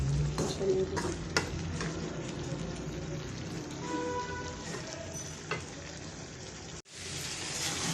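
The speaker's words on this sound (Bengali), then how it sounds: "মাংসটা ভালো করে কষাইতেছি" Chicken pieces with potatoes are stir-fried in a pan, a continuous close sizzle broken by scraping and stirring strokes, ending in a brief cutoff and a return of the frying hiss.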